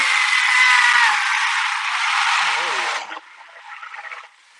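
A blender whirs loudly for about three seconds, then cuts off, leaving faint voices and a quiet hum.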